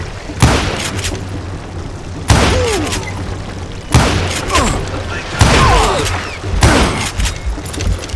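Five loud, booming gunshots from Call of Juarez: Gunslinger ring out at intervals of roughly one to two seconds, each followed by a short decaying tail.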